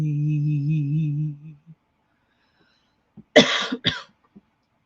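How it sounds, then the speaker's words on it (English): After a held hum fades into quiet, two sharp close coughs come in quick succession, then silence. "Sorry for coughing."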